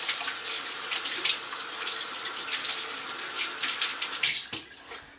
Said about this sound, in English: In the meantime, I'll wash up my hands.